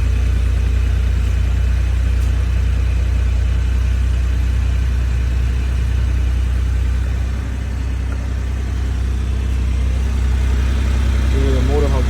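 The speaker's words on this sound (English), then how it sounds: "Look at the motor, how good it sounds." A 1991 Honda Acty street-legal mini truck idles after a cold start, its small engine putting out a steady, even low rumble throughout.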